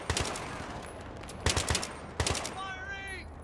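Gunfire in the video game Battlefield 3 comes as three separate clusters of quick automatic shots, moderately loud and each with a short echoing tail, and no one speaks.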